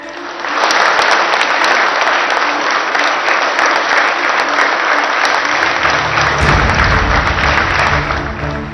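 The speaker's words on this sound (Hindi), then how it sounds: "भारत माता के जयकारों और तालियों की गूंज।" Loud, sustained applause from a large crowd saluting ISRO scientists, steady and dense throughout with a low rumble of cheering building near the end.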